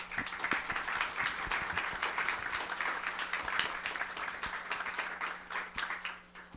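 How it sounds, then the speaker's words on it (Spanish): A workshop audience on electronics for artificial intelligence claps for a speaker, a dense, even round of applause that holds steady at moderate loudness throughout. "Démosle un fuerte aplauso."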